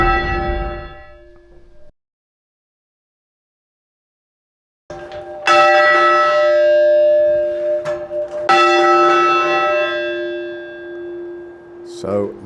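A large church bell at St Cuthbert's Church, Lytham, rings out loudly with long sustained tones, first one strike, a pause of silence, then further strokes ringing full circle.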